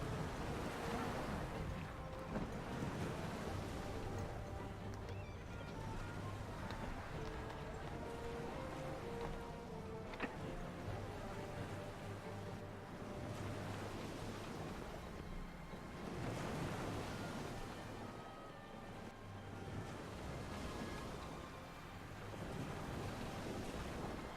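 Sailing ships move out across the sea in Anno 1404, where waves wash and swell under a steady wash of wind, rising and falling in slow surges with faint ship sounds.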